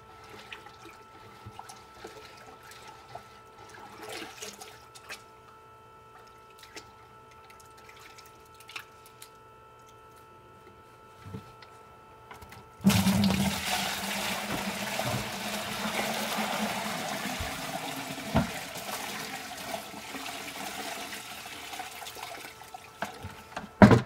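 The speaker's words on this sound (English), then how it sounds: "now you want to pour it back and forth between buckets to get all of the small sand out" Clay slurry water is poured between buckets, a sudden sustained splashing stream that starts partway through after quiet trickles and drips, continuing fairly close and steady to the end.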